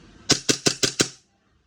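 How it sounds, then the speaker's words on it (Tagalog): WE G17 Gen 5 airsoft pistol fires five BBs in quick, evenly spaced sharp cracks, close and fairly crisp, over about a second with silence after. "VG17 Gen 5, firing!"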